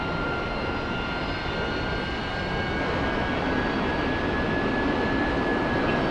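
An airplane takes off from the runway at Sochi Airport, its engines a steady, loud roar with a faint high whine running through it and no voices.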